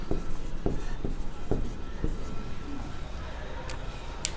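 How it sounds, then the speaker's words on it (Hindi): Chalk or marker strokes on a classroom board, a run of short taps and scratches in the first two seconds, then quieter writing under a faint room hum with no talking. "यहाँ लेबर का लिख देता हूँ"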